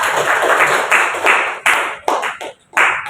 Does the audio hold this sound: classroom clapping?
yes